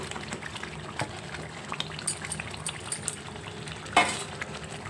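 Fried chicken pieces tipped into a pan of chicken masala curry, frying with a steady close crackling sizzle and stirring scrapes, with a brief sharp splash-like burst near the end and no talking.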